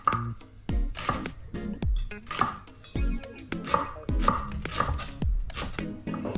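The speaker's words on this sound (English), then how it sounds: "I'll chop up some onions." A knife chops onions on a cutting board for a home-cooked chicken biryani, with a steady series of close, firm thuds repeating at a brisk, slightly uneven pace.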